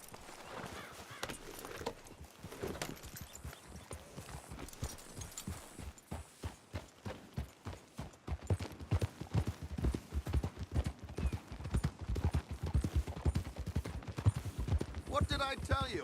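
Horse hooves clip-clopping at a steady riding pace in Red Dead Redemption 2, starting faint and growing louder and more distinct, with voices talking over the hoofbeats.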